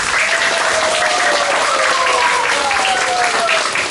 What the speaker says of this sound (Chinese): 我们掌声欢迎我们第一组的表演